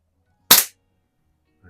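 A Browning Buck Mark pistol fires at a Splatterburst target: one sharp, loud crack rings out close by, followed by silence and a faint sound at the end.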